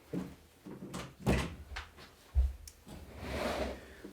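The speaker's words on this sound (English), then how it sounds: "I need to close my door" A door is shut indoors, with a couple of soft knocks and a solid thunk from the latch, then quiet room tone; no talking.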